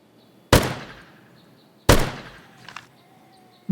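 Two sharp gunshots in a zombie survival video game ring out about a second and a half apart, each fading with a short echoing tail, and a third shot starts right at the end.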